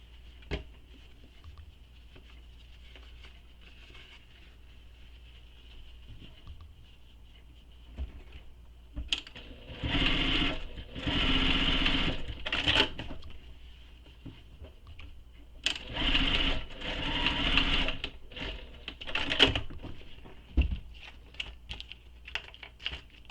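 Sewing machine stitching a Nora bag strap, running in two long bursts of rapid mechanical whirring, separated by quieter handling and clicks, with no talk.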